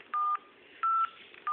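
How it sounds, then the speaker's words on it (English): Three DTMF keypad tones on an HTC phone dialing a diagnostic code, each a steady dual-pitch beep of about a quarter second, evenly spaced with short quiet gaps over faint background hiss. "you're going to dial ##3424"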